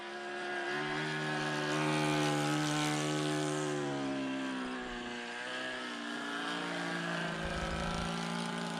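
A scale Piper J-3 Cub RC model airplane runs at full throttle, its engine giving a steady, loud buzzing drone with strong harmonics that rises slightly in pitch as it passes, with no talking.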